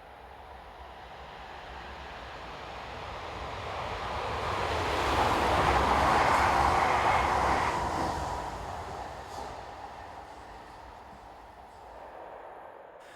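Passenger train set on the Leuven to Antwerpen run passing by outdoors, a broad rushing roar that swells to a peak midway and fades away, with no one talking.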